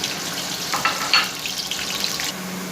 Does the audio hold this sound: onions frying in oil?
yes